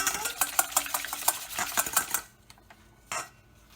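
A whisk clatters quickly against a bowl while gluten-free pancake batter is beaten, rapid rhythmic ticking and scraping for about two seconds before it stops and the kitchen goes quiet except for a single later knock.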